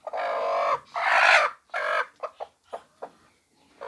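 A broody hen clucks inside her cage: three long, loud drawn-out calls followed by a run of short, sharp clucks, close by with no talking.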